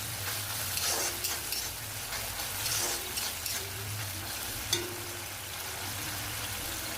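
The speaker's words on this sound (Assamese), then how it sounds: "আৰু এইখিনিও এতিয়া মই পুনৰ ভালদৰে ভাজি ল'ম।" Egg masala curry with mustard and cashew paste fries in a pan after hot water is added, giving a steady close sizzle with soft stirring scrapes and one brief clink, no voices.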